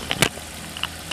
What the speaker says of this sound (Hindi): और इंजन की आवाज़ भी आ रही है। गाड़ी चालू है